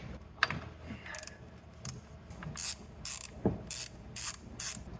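A ratchet with a 3/8 extension and 10mm socket loosens a bolt on a 2008 Infiniti FX35 engine during valve cover gasket work, giving several short bursts of rapid metallic clicking near the end, with scattered tool knocks before.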